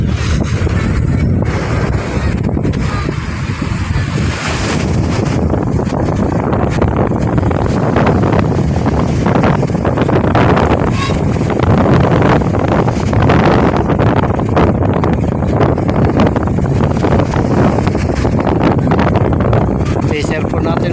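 Strong wind buffets the microphone continuously on the Manila Bay shore at low tide, a dense roar that never lets up, with a voice talking over it.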